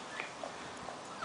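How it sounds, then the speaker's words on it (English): Puppies crying outside in a dog run, with faint high whimpers and short yips rising now and then over a steady outdoor background, heard from a little distance. "The puppies are outside in the dog run. And they're crying, of course."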